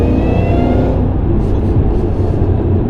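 A modified supercharged Shelby GT500 Mustang making 663 wheel horsepower accelerates hard, a loud, dense, continuous engine roar that stays full and close throughout with no talking.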